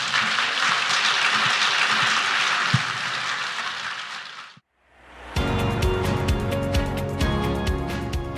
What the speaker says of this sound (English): how about giving a round of applause to our guests?